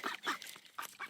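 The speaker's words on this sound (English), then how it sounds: "we named our fawn runner duck Fern" A fawn runner duck on a homestead gives a quick run of four or five nasal quacks, close and moderately loud, with no talking.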